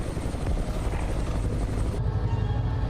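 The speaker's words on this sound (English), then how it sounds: "And suddenly we have a helicopter flying." Helicopter rotor chop and engine noise, loud and steady throughout and close by, with the upper hiss dropping away partway through; no voices.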